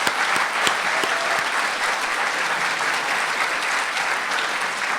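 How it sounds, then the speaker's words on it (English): An audience at a short film festival awards ceremony in Winchester claps in sustained, dense applause that stays loud and even for several seconds. "So can I just give a round of applause to everyone here,"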